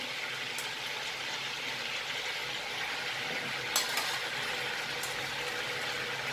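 Food frying in hot oil gives a steady, moderate sizzle with no talking and a couple of faint clinks partway through.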